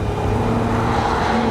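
A high-powered car engine rated at 631 brake horsepower roars in a steady, loud, unbroken drone that fills the whole short stretch.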